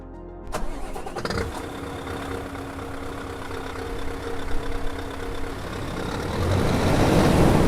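A Scania V8 truck engine at the Scania Museum cranks and starts with a sharp onset, then settles into a steady, loud, close idle that swells into a rougher, louder rumble toward the end.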